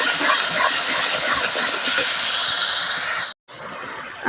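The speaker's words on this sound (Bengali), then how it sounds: "এবার লবণ হলুদ দিয়ে এটা কষাতে থাকবো এবার জিরে আর ধনে গুঁড়ো দিয়ে আরও একটু কষিয়ে নেব" Chicken is sautéed with salt, turmeric, cumin and coriander powder, giving a loud, continuous hissing sizzle close by that briefly drops out near the end before resuming.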